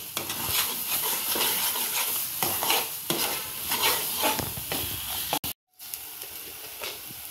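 Spice masala sautés in oil for an egg curry, a steady close sizzle broken by repeated scraping strokes of a spoon in the pan, then a brief dropout and softer frying.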